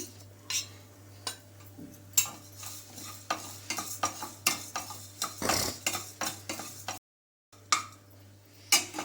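Coriander seeds and asafoetida dry-roast in a pan for a curry-leaf chutney powder, with steady stirring scrapes and light metallic clicks of a utensil against the pan, close up and with no talking.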